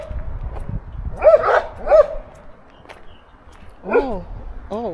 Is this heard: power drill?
no